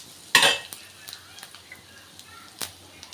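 Spices crackle and spit in hot oil for a tempering of urad dal, cumin and lump asafoetida, with a sharp sizzling burst near the start that settles into faint scattered pops and one more brief crackle.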